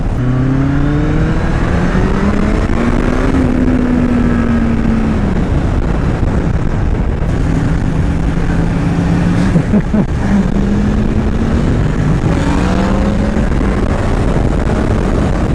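A street motorcycle ridden offroad revs hard in first gear. The loud, close engine pitch climbs, drops and climbs again in repeated surges that fill the whole stretch.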